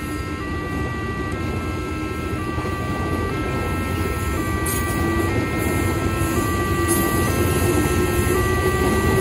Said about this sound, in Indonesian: KRL yang melintas di JPL 95 Cisauk Tangerang Selatan ini teman-teman